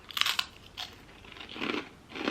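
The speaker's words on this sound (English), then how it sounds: "Cut up bits of pita, and it's so crunchy and so salty." Crunchy, salty cut-up pita chips from M&S being bitten and chewed up close, a few sharp crackling crunches followed by softer chewing bursts, with no talking.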